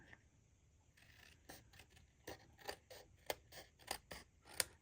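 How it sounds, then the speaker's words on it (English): Scissors snip through the edges of a paper card for a stamped jumbo tag, a run of about eight crisp, close cuts growing steadily louder, with no talking. "I'm just gonna trim those edges right off"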